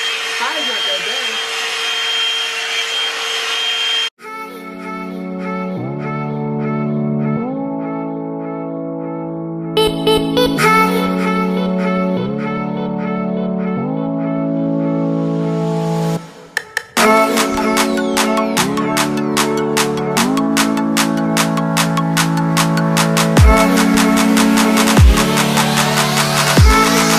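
A Revlon One Step hair dryer brush blows steadily on high, a loud close whirring hum that cuts off and restarts several times, changing pitch as it is switched between settings.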